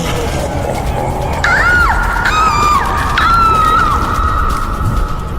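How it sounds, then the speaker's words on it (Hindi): A girl screams in a horror cartoon: three loud, drawn-out, wavering shrieks in quick succession over a dense, noisy background. "जमीन से एक हाथ निकलकर उसके पैर पकड़ लेता है, जिससे वो गिर जाती है और चिल्लाने लगती है।"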